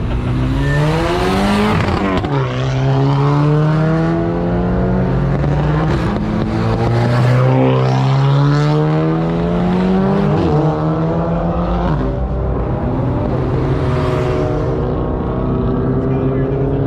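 Cars pulling away from a Jax Wax Cars and Coffee meet, loud engines revving and sweeping up through gears in repeated rising pulls, exhaust roaring close by throughout.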